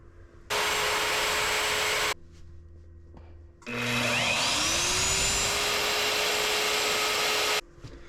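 Electric router carving a wooden cat clock, its loud broadband whine running in two long passes with a pause between, pitch dipping and rising as the bit bites into the wood.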